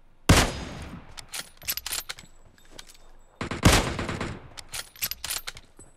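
Gunfire in the mobile battle-royale game PUBG Mobile during a duo-versus-squad match: two sharp, loud shots each followed by scattered rapid bursts of firing and impacts, with quieter gaps between.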